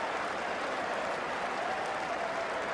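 A packed cricket crowd applauds at the 2005 Ashes first Test at Lord's, sustained dense clapping from a distant stand that holds steady throughout with no talk over it.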